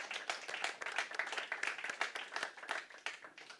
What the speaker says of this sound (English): give an applause to the speakers